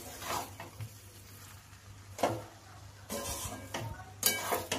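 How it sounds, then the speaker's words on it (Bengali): Chicken tehari stirred in a cooking pot, soft intermittent scraping and clinking of a spoon against the pot with a faint sizzle underneath, quiet and close. "একটু নাড়াচাড়া করে নেব যাতে ভালো করে মিশে যায়"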